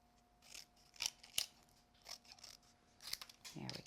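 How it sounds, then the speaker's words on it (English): Scissors snipping around and under a curved frame on a paper craft card, several short crisp cuts spaced irregularly, close and fairly quiet, with a soft rustle of card near the end. "Trim around and underneath your frame, always with your scissors at an angle."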